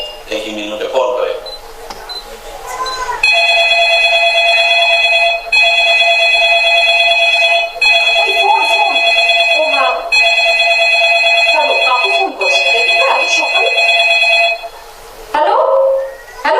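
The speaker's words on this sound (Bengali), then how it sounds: "দেখি দেখি মিনুকে ফোন করে" Loud electronic telephone ringing in a stage show skit repeats in steady bursts for over ten seconds, with brief gaps between rings and a few voices talking underneath.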